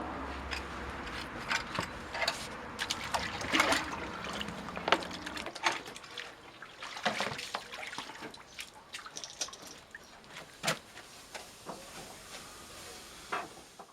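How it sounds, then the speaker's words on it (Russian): An oak barrel frame being dipped back into water while being heated during cooperage, giving splashes, drips and sloshing knocks in irregular bursts, louder at the start and thinning to scattered drips. "нам необходимо снова окунуть бочку в воду и продолжать прогрев"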